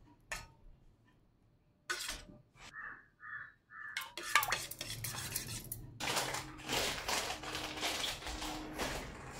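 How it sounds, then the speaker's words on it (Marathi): Egg omelette mixture with turmeric being stirred in a bowl, quick clinking of a utensil against the dish in bursts, then a busier, continuous scraping and clatter, close and fairly loud. "आता सगळं मिक्स करून घ्यायचं"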